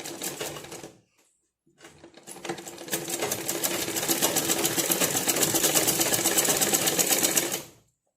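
A sewing machine stitches the back part of a blouse with its lining, a short burst, a pause, then a long fast run of rapid, even needle clatter that stops abruptly.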